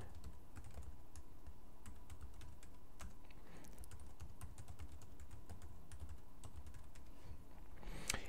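Rapid, uneven clicking of keys as a password is typed on a computer keyboard, steady and close, alone against a low background hum.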